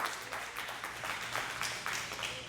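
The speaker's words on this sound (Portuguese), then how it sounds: "pode aplaudir o Senhor Jesus" A church congregation applauds together, a steady, fairly soft wash of clapping that carries on evenly without pause.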